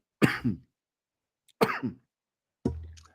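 Two harsh, close coughs from a lingering cold, separated by a pause, followed by a rougher throat-clearing rasp.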